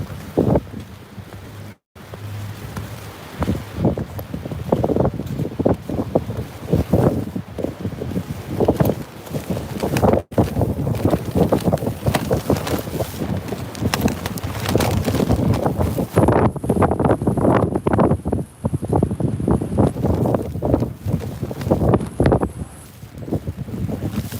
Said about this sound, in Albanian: Shpresoj që audio mos ketë zhurmë, sepse ka shumë erë këtu.